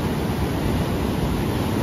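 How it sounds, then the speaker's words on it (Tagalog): Big ocean waves breaking at Baler surf beach in the Philippines, heard as a steady, loud roar of surf and washing water that fills the whole clip without pauses. "Ang laki ng alon."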